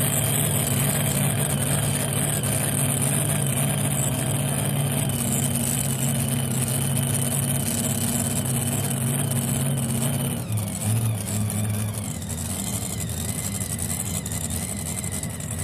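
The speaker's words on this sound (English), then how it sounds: "Backing in to take the hook. Another 23 T-Bucket Ford." A 1923 Ford T-Bucket hot rod idles steadily as it backs in, its loud, rumbling engine holding a constant throb close by, with a slight change in tone near the end.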